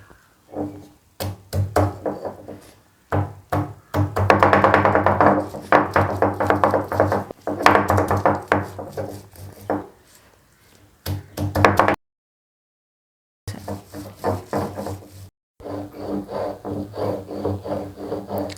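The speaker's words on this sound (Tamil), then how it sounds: "எப்போவுமே நம்ம அரைக்கிற மாதிரி அம்மியில் வச்சு தான் அரைச்சி எடுத்துக்க போகிறோம்." Mint and coriander with curd and lemon are ground into chutney on a traditional ammi grinding stone, making repeated close scraping and rolling strokes in bursts, with one short pause before the grinding resumes.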